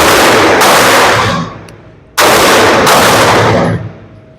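Two loud, sharp volleys of gunshots from a Palmetto State Armory Rock 5.7x28 pistol, each a rapid string of close reports lasting about a second, separated by a short pause.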